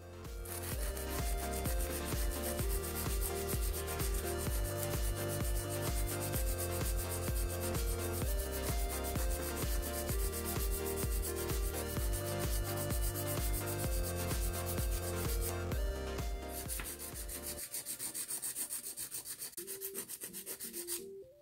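Thick gel on a fingernail is filed in quick, even back-and-forth strokes, a close, steady rasping rhythm that stops near the end with no one talking.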